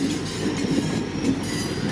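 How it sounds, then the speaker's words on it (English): A light train rolls past on the railroad, with steady dense low-frequency rumble and wheel noise that fills the whole two seconds, close and continuous, with no horn and no voices. "another light train"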